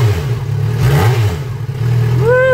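A Yamaha FZ6R motorcycle with a new aftermarket exhaust idles close by with a throaty exhaust rumble in cold weather, then revs up briefly, the pitch climbing sharply near the end.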